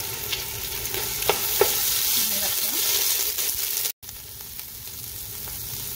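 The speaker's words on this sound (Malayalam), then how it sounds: "അരിഞ്ഞു വെച്ചിരിക്കുന്ന പച്ചമുളക്, 1 table spoon garlic paste, 1 table spoon ginger paste ഇട്ട് കൊടുത്ത്" Green chilli with garlic and ginger paste frying in a pan, a steady close hiss with a few scraping stirs of a spoon, briefly cut out near the end, no talking.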